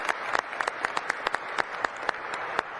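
Played-back crowd clapping, a busy patter of distinct claps over a continuous applause bed, moderately quiet and steady with no voices on top.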